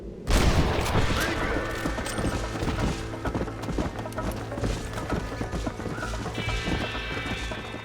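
Gunfire in the Western video game Red Dead Redemption, cracking out in a dense burst over the steady clip-clop of horse hooves, with loud bangs and a busy layered mix throughout.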